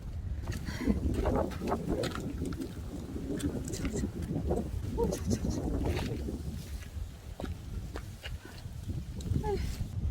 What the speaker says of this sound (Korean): 아, 좀 춥다 했더니 바람이 더 거세게 부네.